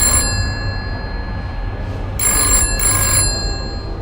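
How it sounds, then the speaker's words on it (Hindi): An old-style telephone bell rings at a police station, bursts of shrill metallic ringing with a pause between them, loud and clear over a low steady hum. "तभी हरिनगर पुलिस थाने में फोन की घंटी बजती है"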